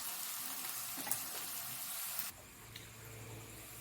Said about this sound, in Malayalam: അപ്പോൾ നമുക്കിതെല്ലാം ഒന്ന് പച്ചമണം മാറുന്നിടം വരെ ഇളക്കാം.